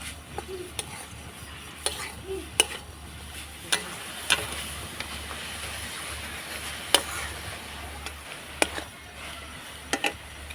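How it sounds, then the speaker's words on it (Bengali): Sweet beetroot pitha filling with jaggery being stirred in a pan, giving soft continuous scraping with sharp intermittent clinks of a spoon against the metal, close and moderately quiet. "এবার আমি নাড়াচাড়া করে পুরটা তৈরি করে নেবো"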